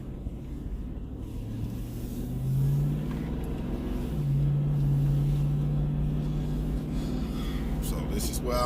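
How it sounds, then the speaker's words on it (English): Road traffic on a main road beside a side street, with vehicles droning past at moderate distance, engine tone rising as a car goes by, a steady outdoor rumble throughout. "I wait for the traffic to go."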